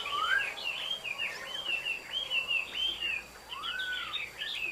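A long-tailed hwamei songbird sings up close, a lively run of clear rising and falling whistled phrases and trills with short pauses, loud and alone without talk.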